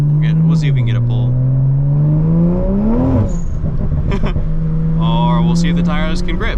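A 2020 Toyota Supra with over 500 wheel horsepower accelerating hard at night, heard from inside as a loud engine note rising through the revs, dipping at a shift, then pulling again, with people talking over it.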